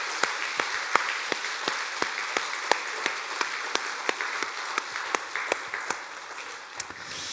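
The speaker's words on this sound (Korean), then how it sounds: "우리 한번 응원의 박수 힘차게 한번 하도록" A church congregation at Sunday worship claps together in a steady, rhythmic beat, about three claps per second, forming a moderately loud, even wash of applause with no speech.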